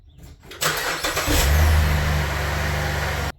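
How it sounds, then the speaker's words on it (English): A 2009 Chevy Malibu 3.6L V6 cranks and starts just after an oil change, catching with a brief rev before settling into a steady, close idle that runs to the end. "I'll go ahead and run the engine and then check it again and see how it looks."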